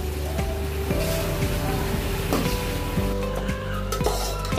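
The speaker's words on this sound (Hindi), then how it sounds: "तो हम इसके अंदर अपनी सब्जी ऐड करने जा रहे हैं, जितनी भी हमारी सब्जी थी वो सब इसके अंदर ऐड कर देंगे।" Vegetables for veg dum biryani frying in hot oil in a pot over high heat, a steady loud sizzle with scraping stirs and clanks of a utensil against the metal, close by.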